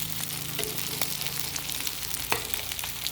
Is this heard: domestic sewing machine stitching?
no